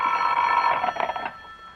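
A telephone bell rings in a continuous trilling burst that fades out near the end, with no voices.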